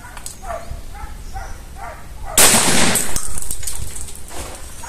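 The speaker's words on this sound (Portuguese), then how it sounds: "Eu vou atirar num humanoide a 30 metros" A single shot from a Mossberg 930 12-gauge semi-automatic shotgun fired at a 30-metre target, one sharp, loud blast with a long echoing tail at an outdoor range, preceded by quieter handling sounds and distant dog-like barks.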